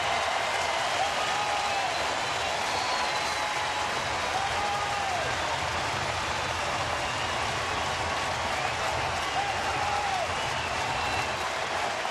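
A standing crowd at a Milwaukee–Cincinnati baseball game roars and cheers in a steady, dense wash of noise, with applause mixed into the sustained crowd din.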